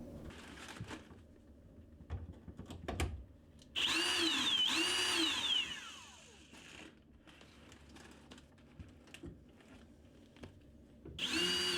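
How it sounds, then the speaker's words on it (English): A power drill boring a pilot hole into a wooden backer piece beneath a bathroom vanity, with two whirring bursts that rise and fall in pitch, set among quieter handling clatter and knocks. "I had to drill another pilot hole in the backer piece under the vanity"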